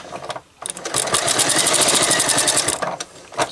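A sewing machine runs a seam on a fabric microwave bowl cosy, starting after a brief pause and whirring in rapid, even pulses for about two seconds before slowing to a stop.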